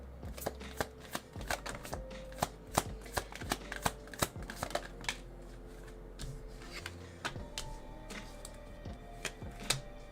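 Tarot cards are shuffled by hand, with crisp riffles and sharp slaps of the deck repeating close by at an uneven pace, without talk.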